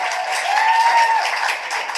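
An audience at a music listening event gives a brief, steady round of applause, close and moderately loud with a faint whistle or cheer on top.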